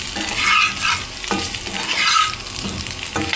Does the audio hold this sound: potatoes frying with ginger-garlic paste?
yes